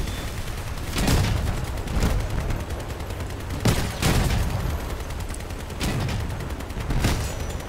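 Gunfire crackles through a Crossout vehicle battle, with several heavy bursts and booms landing roughly every second or two over a constant rumbling din of combat, loud and dense, no voices.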